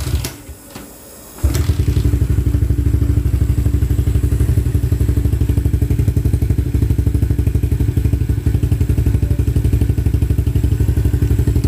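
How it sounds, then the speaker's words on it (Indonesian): A modified Yamaha LC motorcycle engine starts and idles with an exhaust lacking fiber packing, a loud, rapid, raw putter with clattering pulses running steadily after a brief quiet start. "Exhaust tak ada fiber lagi, so memang bunyi dia macam tu."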